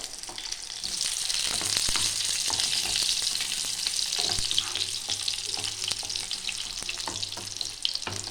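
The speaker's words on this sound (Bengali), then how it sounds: "ওই জন্য আমি আস্তে আস্তে ভাজছি" Chicken tikkis fry slowly in a pan on medium-low flame, a steady close sizzle and crackle of oil lasting throughout, with occasional soft clicks and shifts.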